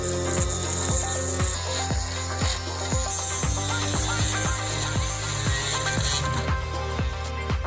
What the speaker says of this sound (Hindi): अब चलो एक पतली ड्रिल लेते हैं और सिलेंडरों को ड्रिल करना शुरू करेंगे।